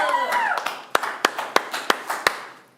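Applause at a main stage show comes as a short run of sharp, evenly spaced claps, about eight in quick succession, fairly close and loud after a brief murmur.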